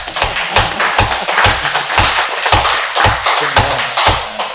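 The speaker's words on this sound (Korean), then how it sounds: "하나님 앞에 영광의 박수 올려드립니다" A church congregation at Sunday worship claps for God in a fairly even rhythm, the claps close and sharp and repeating about twice a second.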